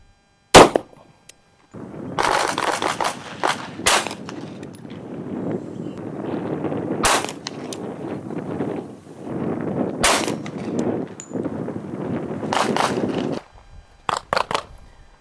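A 1911 pistol in .45 ACP fires several loud, sharp reports, spaced irregularly and each followed by a roaring echo and rumbling tail, with a quick pair of shots near the end.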